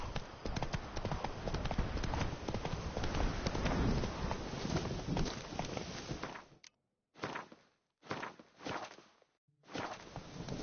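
Horse hooves galloping in The Witcher 3, a fast, dense clip-clop that runs steadily at first, then breaks into short bursts separated by silence.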